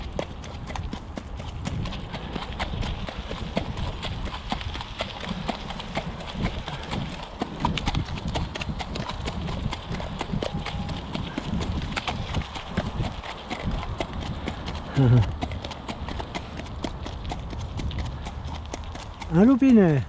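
A horse walks at a steady pace along a riding trail, its hooves clip-clopping in a regular rhythm close by, with outdoor ambience and occasional faint voices underneath.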